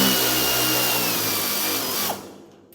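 A power drill whirs loudly up close while tightening bracket bolts for a turbo wing mounted on a 3500 Duromax dually truck, then winds down abruptly near the end.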